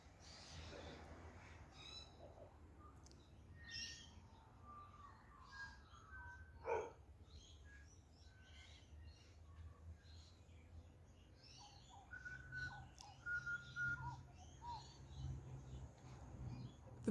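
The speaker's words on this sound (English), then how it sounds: "The bird in the background, that's my Snappy" A pet bird named Snappy calls in a food forest garden, with scattered chirps and short whistled phrases over a quiet low hum. The calls are fairly faint and grow busier toward the end.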